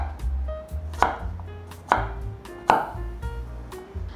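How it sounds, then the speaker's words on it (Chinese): A knife dicing potatoes on a cutting board, cut into small cubes for curry: three sharp, loud chops about a second apart, with quieter knife taps between them and no talk. "换一个方向，切成小丁。"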